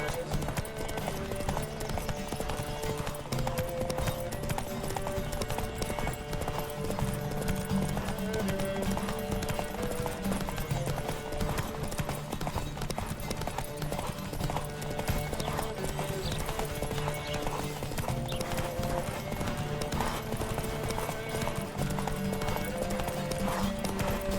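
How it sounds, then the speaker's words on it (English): Horse hooves gallop in a steady, rapid clip-clop through a race in The Witcher 3, running continuously under game music with an occasional neigh. "Don't spare the horse!"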